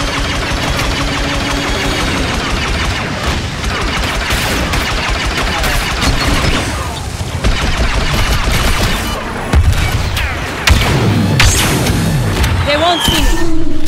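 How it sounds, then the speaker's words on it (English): Video game battle with artillery fire and explosions, dense rapid bangs and booming blasts layered over a rumbling engine-like drone, loud and close throughout. "Artillery, fire away."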